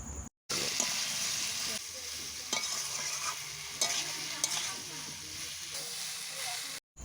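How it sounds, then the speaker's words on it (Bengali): Boiled young jackfruit and potato being stir-fried in spice paste in a pan, with a steady frying sizzle and stirring scrapes throughout, loud and close, without talk. "এরপর দেব সিদ্ধ করে রাখা হিঁচড় আর আলু দিয়ে ভালোভাবে মশলার সাথে কষে নেব।"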